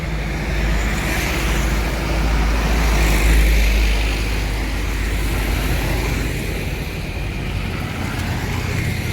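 A Sinar Jaya Jetbus 3 Voyager bus pulling away from the station: a steady deep engine rumble and broad roaring noise that holds loud and even, swelling slightly midway, with no voices.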